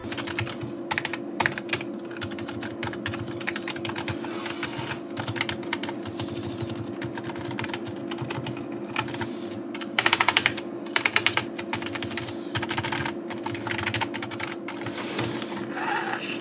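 Rapid, continuous typing on a SVEN KB-G8500 membrane gaming keyboard, soft muted keystrokes clattering quickly with a brief louder burst midway, close up and without talk.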